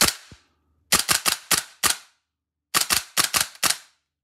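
A VFC BCM MCMR gas blowback airsoft rifle fires semi-automatic in two quick bursts of sharp, snappy reports, five shots then five more, loud and close with silence between.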